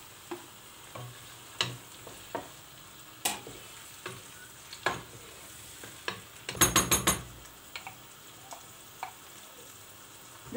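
Onions and tomatoes cook in a pot under a soft, low sizzle, broken by scattered knocks and clinks of a utensil against the pot and a brief cluster of rapid metallic rattles in the middle.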